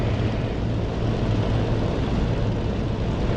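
A Messerschmitt Bf109 fighter's piston engine roars during takeoff in the DCS flight simulator. A loud, steady, broadband drone holds constant with no pauses.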